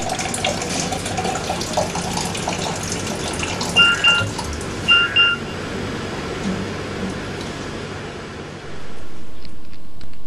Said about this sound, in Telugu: మంచి నీళ్ళు పట్టమ్మా